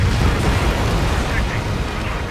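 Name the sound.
missile explosion downing enemy bomber in Ace Combat 7 video game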